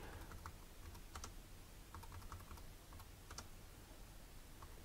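Computer keyboard keys pressed while playing a Tetris-style game on a Raspberry Pi 400, scattered clicky taps in irregular clusters, close and moderately quiet, with no talking.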